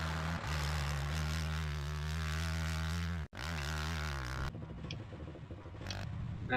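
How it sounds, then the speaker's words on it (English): A video-game train engine in ATV Offroad Fury gives a steady, droning hum with a low rumble, briefly cutting out and resuming before fading into quieter mechanical noise. "That one makes the engine sound, even though it's not moving."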